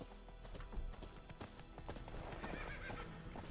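A horse gallops in The Witcher 3 video game, with rapid clip-clop hoofbeats and a whinny rising over a low, continuous game ambience.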